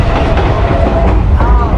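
The Durango Silverton railroad train rumbles steadily along with a dense, rattling roar of wheels and cars, heard from on board with voices faintly mixed into the constant noise.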